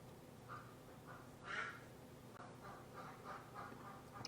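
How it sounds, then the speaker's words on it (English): Pet ducks quack in the background outdoors, several short quacks spread across the clip, faint and somewhat distant against a low steady background. "You guys hear my ducks in the background?"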